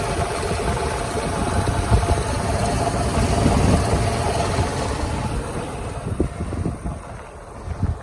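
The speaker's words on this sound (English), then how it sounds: "So a nice smooth idle." A 1994 Mercedes-Benz S500 engine idles evenly, heard close up with some wind buffeting the microphone, the steady hum easing slightly toward the end.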